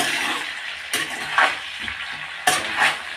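Bengali niramish ash gourd ghonto being stirred in a pan: a low steady sizzle with two sharp spatula scrapes and a couple of softer stirring swishes, close and without speech.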